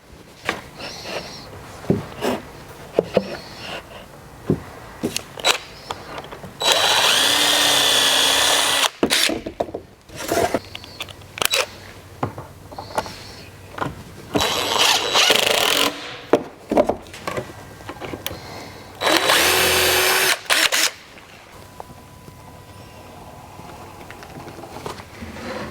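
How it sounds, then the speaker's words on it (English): A power drill bores a pilot hole and drives a screw into wood trim for a van build, with three sustained whining bursts of several seconds each amid scattered handling clatter and knocks nearby. "pre-drill the hole, shoot the screw in"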